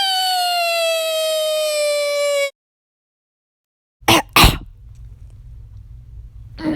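Someone just awake gives two short, sharp coughs close by, after a steady electronic tone and a brief silence, then quiet room noise follows.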